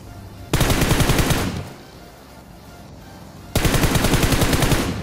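Two long bursts of rapid automatic gunfire in BGMI, loud and close, each lasting about a second, with a quieter gap between them.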